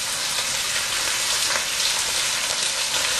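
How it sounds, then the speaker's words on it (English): Pot roast beef browning in about a quarter cup of hot oil in a large pot, giving a steady, dense sizzle and crackle with scattered pops, close and continuous, with no talk over it. "We're going to brown the meat on all sides."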